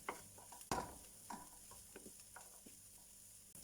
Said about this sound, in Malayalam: ഈ ഗ്രീൻ ചില്ലീസിൻ്റെ ഈ കളറൊന്ന് മാറുന്നത് വരെ ഈ എണ്ണയിലിട്ട് ഇങ്ങനെ മിക്സ് ചെയ്യണം.